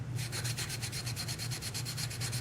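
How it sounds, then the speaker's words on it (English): A green abrasive pad scrubs the metal mating surfaces of a Honda Accord thermostat housing in steady, rapid back-and-forth strokes, a close, even rubbing rasp with no talk. "I'm going to use a green pad to clean up the mating surfaces of the two parts"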